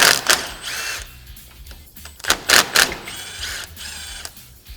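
An impact or power tool works loose the 8mm bolts holding the brake line to the front knuckle of a Polaris RZR Pro R in a garage, sounding as short whirring bursts at close range with faint clicks between them and no talk.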